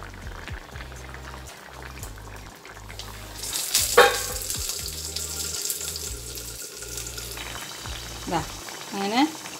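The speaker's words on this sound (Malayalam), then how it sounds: "അപ്പം നമ്മൾക്കിനി ഫിഷ് ഇട്ട് വേവിക്കാം." Sardines cook in a pan for Kerala-style fish avial, giving a steady sizzle with rhythmic stirring and tap water running nearby, then clattering kitchen sounds near the end.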